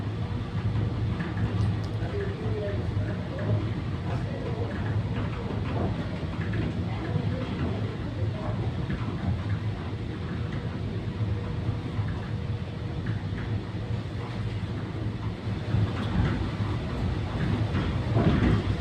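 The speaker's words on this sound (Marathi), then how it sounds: "आता आपली ट्रेन निघालेली आहे वरच्या बाजूनी." A departing train rolls along the tracks in a continuous low rumble that holds at an even, moderate level.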